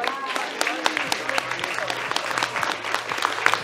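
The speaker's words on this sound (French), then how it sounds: "Je vous demande d'applaudir Angie." Audience applause at a dog show breaks out after a winning white Swiss shepherd male is announced, a steady patter of many hands clapping continuously with voices faintly heard underneath.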